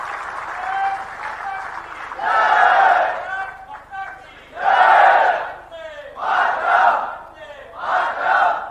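An audience at a cultural festival greets the Chief Minister with repeated swells of applause and loud rhythmic group shouts, rising and falling several times, with a voice speaking between the bursts.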